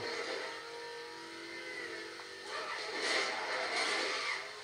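An Audi R8 engine in the racing game Need for Speed revs and accelerates, rising and falling in pitch as the car pulls away, heard alone at moderate level without talk.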